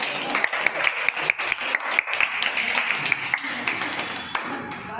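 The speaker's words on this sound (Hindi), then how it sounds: "तालियां बजाओ।" Dense crowd applause celebrates a dance group member's birthday, many hands clapping fast and steadily for several seconds, close and lively, with scattered louder individual claps.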